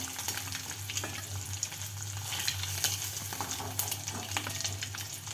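Boiled eggs sizzle softly in mustard oil seasoned with salt and turmeric, a moderate crackling fry broken by scattered spatula scrapes and taps, with no talking.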